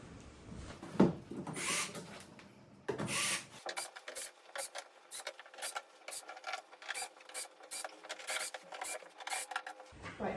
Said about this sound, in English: when you are either screwing up the lid or unscrewing the lid, you keep the setting on the torque of the drill low